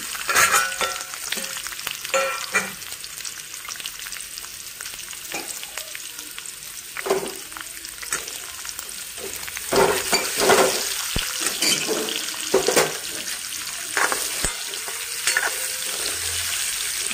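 A whole egg fries in hot oil for egg curry, a continuous sizzling crackle close up, with scattered scraping and tapping of a spatula in the pan and occasional louder spits.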